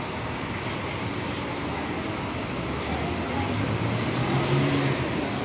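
An intercity bus maneuvering to park at the busy Purabaya (Bungurasih) terminal in Surabaya, a steady low engine rumble and broad road noise, with a slight rise in drone near the end and a voice speaking over it.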